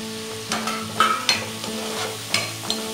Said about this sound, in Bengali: মশলাখিনি আমি এতিয়া মই ধুনীয়াকৈ কম জুইত ভাল ধৰণে ভাজি লম